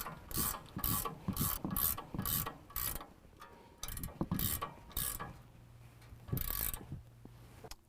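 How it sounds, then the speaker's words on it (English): Wrench tightening the upper control arm nut to the knuckle on a 2017 Ford Raptor during a leveling kit install, giving a rapid series of close ratcheting clicks in bursts with brief pauses. "we're going to tighten down our upper control arm to our knuckle"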